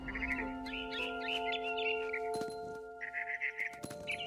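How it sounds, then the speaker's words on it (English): Bright, high chirps and twittering from a barn swallow in the video game What Remains of Edith Finch, in short repeated bursts, over a steady synthetic tone and occasional clinks. "I heard chirping outside my window. It was a barn swallow going back to her nest."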